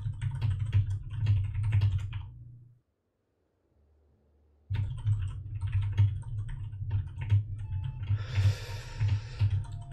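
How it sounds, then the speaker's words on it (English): Steady computer keyboard typing, with a dense run of quick key clicks that stops for about two seconds and then resumes at the same close, busy pace. "Sorry if I'm keep typing in the background."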